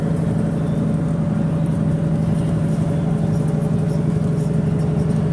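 A car travelling fast on a highway at about 65 mph past other vans and cars, heard from inside as a loud steady low engine and road drone with no talking.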